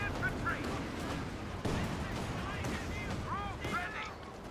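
Artillery fire and explosions in a Company of Heroes 2 multiplayer battle, heard as a steady dense barrage of booms and crackling gunfire with a sharp impact near the middle, under a commentator's talk.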